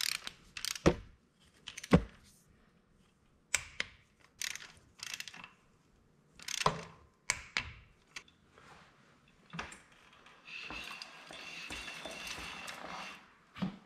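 Ratchet wrench clicks and metallic tool sounds while bolts on a 2020 Yamaha Raptor 700 engine are torqued, with short bursts of ratcheting separated by pauses and a softer whir near the end.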